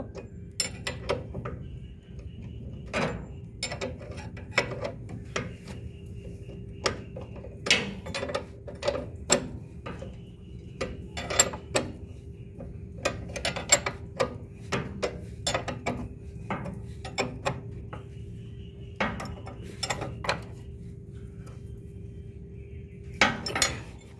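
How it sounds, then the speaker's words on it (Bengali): Metal parts of a Mahindra rotavator skid assembly are tightened with a ratcheting tool, producing many quiet, irregular clicks and clinks over a faint steady hum. "এরপরে নিচের অংশটা আমরা টাইট দিব"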